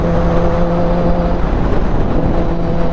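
A Kawasaki motorcycle engine with electronic throttle plates revs loudly up close, then its droning pitch settles as the throttle is let go, with no talking over it.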